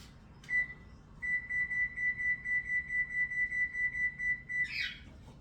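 A kitchen oven beeping as it is set to preheat to 425, a steady train of short, clear electronic beeps in quick rhythm, alone in a quiet room.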